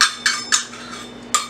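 A utensil stirs cream cheese with ranch dressing and buffalo sauce in a bowl for buffalo chicken dip, making four sharp clinks against the dish between quieter scraping, close by with no talk.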